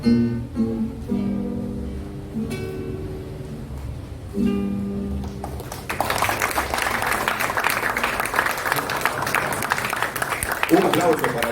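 Speech is heard first, then audience applause for a musician breaks out at a book event and continues as loud, dense clapping from a crowd until the end.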